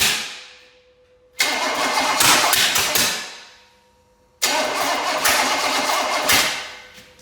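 Chevy small block engine from a barn find, test-run on a stand with a choke: two starts, each a sudden loud catch that runs roughly for about two seconds and then fades away, close and alone.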